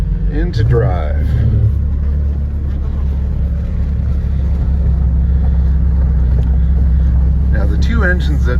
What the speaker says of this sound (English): Now the two engines at idle set up a really interesting harmonic in here.